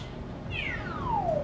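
A single high, drawn-out meow from a cat character in the Super Mario 3D World video game, sliding downward in pitch over about a second, fairly clear over a soft background hum.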